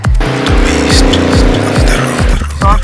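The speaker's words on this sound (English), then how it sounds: "You just hear the roar of this bike and you'll fall in love." A Hyosung Aquila Pro 650 motorcycle with a 90-degree V-twin engine and rotating exhaust roars up close. The revs rise and fall repeatedly in loud, aggressive throttle blips.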